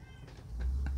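A house cat gives a short, soft meow or two close by, with low background rumble and no talk.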